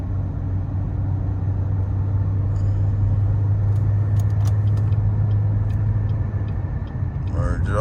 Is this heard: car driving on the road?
yes